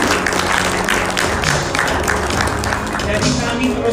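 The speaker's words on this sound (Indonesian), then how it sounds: "Mari kita berikan tepuk tangan yang luar biasa bagi kerjasama yang baru saja kita saksikan." An audience claps at an event, a dense, continuous patter of many hands that holds steady throughout while a voice talks over it.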